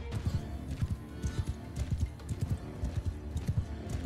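Horse hooves clip-clop in the battle game Mount and Blade Bannerlord, a brisk rhythmic series of close, loud thuds at a trotting pace, with no talk over them.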